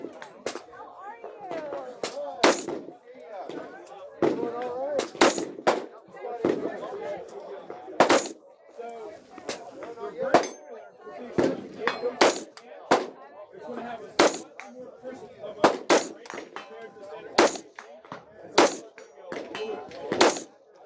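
Rifle with a trigger upgrade fired at SHOT Show 2017, a string of sharp, loud shots in uneven rhythm across the span, with room noise and some talk between reports.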